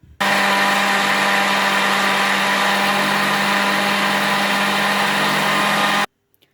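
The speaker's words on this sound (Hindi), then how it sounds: "तो चलिए अब हम इसको ब्लेंड करते हैं।" An electric blender whirs at a steady, loud pitch while blending milk and oil into eggless mayonnaise, running continuously for about six seconds and then cutting off abruptly.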